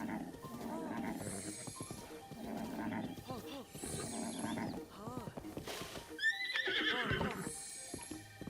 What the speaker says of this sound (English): Please name your horse Va Horse